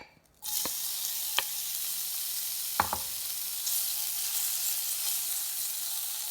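Mushrooms hit a hot pan for yaki udon, setting off a sudden, steady sizzle and hiss that continues evenly with a few brief clinks of a utensil, close and without speech.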